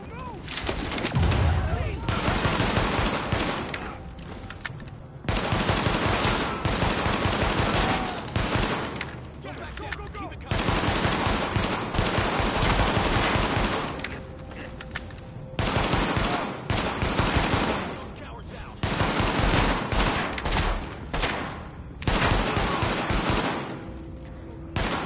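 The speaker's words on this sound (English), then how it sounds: "Party's taking heavy fire from the roof." Heavy gunfire from a rooftop gunner in The Division, with sustained rapid bursts of shots in repeated volleys separated by brief pauses, loud and dense throughout.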